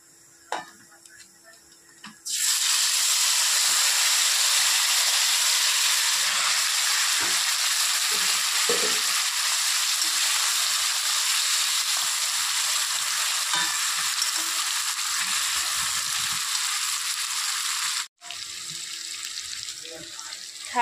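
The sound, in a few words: fish frying in a pan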